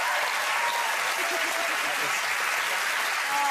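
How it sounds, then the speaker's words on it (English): A dense, continuous wash of TV studio quiz show audience applause, steady and fairly loud from start to finish with no other sounds standing out. "Round of applause"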